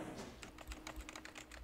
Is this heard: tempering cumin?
no